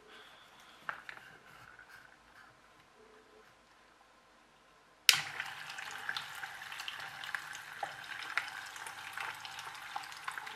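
A small fish tank water pump switches on abruptly in water, giving a steady churning, splashing rush that runs continuously and close after a quiet stretch of faint handling noises.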